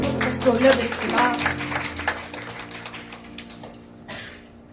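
A church congregation claps in praise at the close of a worship song, a scattered burst of applause blended with lingering music and voices that thins out toward the end.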